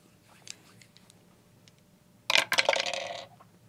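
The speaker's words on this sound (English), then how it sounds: "I'm going to roll 2D8." Two eight-sided dice for a Dungeons and Dragons character are shaken and rolled, giving a bright, clattering rattle of about a second after some faint handling taps, close and loud with no speech over it.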